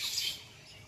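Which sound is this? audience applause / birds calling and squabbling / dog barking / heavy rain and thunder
birds calling and squabbling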